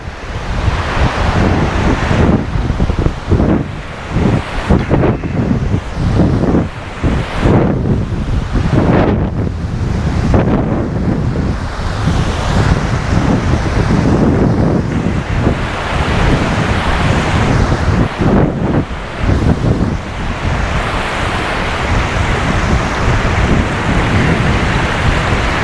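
Rough ocean surf at Acadia National Park crashes continuously with strong wind buffeting the microphone, waves surging and breaking loudly close by with no pauses, no one speaking.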